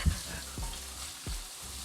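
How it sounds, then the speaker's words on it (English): Chicken frying in a hot wok for a Chinese takeaway chicken noodle soup, a steady close sizzle broken by a few soft stirring scrapes, with no talking. "Can you hear it sizzling?"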